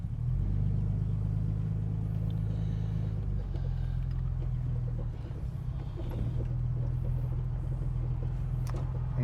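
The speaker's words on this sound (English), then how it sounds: "It idles really, really well" A 1967 Jaguar E-Type Series 1 4.2 FHC engine idles with a steady, low rumbling hum that shifts pitch slightly midway, heard close and alone without talk.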